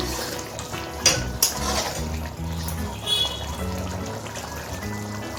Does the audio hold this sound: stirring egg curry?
yes